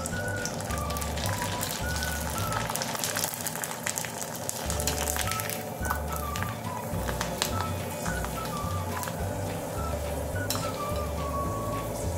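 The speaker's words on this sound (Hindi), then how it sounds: "अभी फ्राई कर लेती हूँ गरम हो गया फ्राई तो होने के लिए रख देती हूँ" Potato and sabudana papad frying in hot oil, a dense, continuous loud sizzle and crackle close by, with a steady low hum underneath and no talking.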